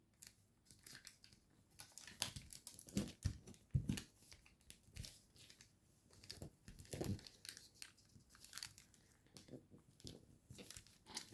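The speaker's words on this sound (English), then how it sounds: "fold a crease along this edge. So just take this, open it up, just like that, and fold it back along the center" Paper being creased and folded into an origami jet, a soft scattered crinkling and rustling with occasional sharper crackles, close and fairly quiet throughout.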